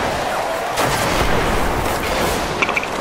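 A single gunshot in a shooting video game rings out over a steady background of game noise and soft ambient rumble, followed by a couple of faint clicks near the end.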